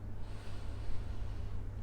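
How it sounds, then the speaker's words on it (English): A single slow, soft inhalation through the nose during a guided meditation, faint and breathy against a quiet low background hum. "Breathing in"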